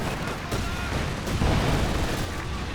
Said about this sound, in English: Some incendiary artillery coming in though.